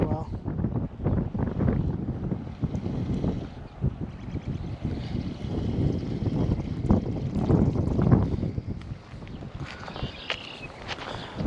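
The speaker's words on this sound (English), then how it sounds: "This wind!" Strong wind gusting across an open fishing spot, heavy rumbling buffeting over the microphone, loud and continuous throughout with some faint speech underneath.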